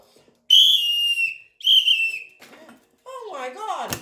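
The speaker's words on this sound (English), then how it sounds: "Where's my whistle?" A whistle blown in two long shrill blasts, followed by short exclamations from a voice.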